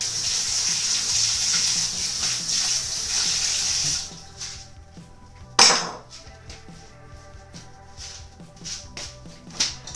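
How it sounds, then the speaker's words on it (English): Water runs from a tap for a few seconds, then stops, followed by quieter splashes, hand rubbing and a sharp knock nearby. "gotta wash my hands again"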